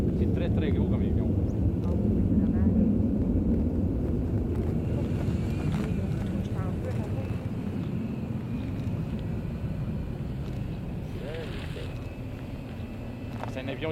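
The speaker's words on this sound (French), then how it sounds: "C'est un avion de l'armée, oui." A heavy, steady rumble of a CC-177 Globemaster III military transport aircraft's engines as it lands, filling the whole stretch, with wind buffeting and people talking underneath.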